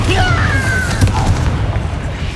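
A Bombarda spell explodes in the Hogwarts Legacy video game as a loud, booming blast with crackling debris that rumbles on throughout, mixed with combat effects and a brief voice.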